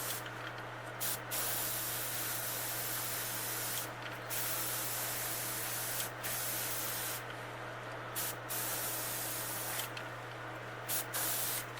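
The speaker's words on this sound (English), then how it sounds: "I'm kind of pointing more towards the tail of the bait and let the overspray work its way down the sides" An airbrush hisses in short and long bursts while spraying paint onto a bluegill fishing lure, the spray close and steady between brief pauses.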